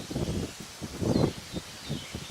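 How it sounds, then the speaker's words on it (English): Wind gusting through leaves outdoors, arriving in several soft rushing bursts with faint bird chirps behind them. "Oh, come on, wind."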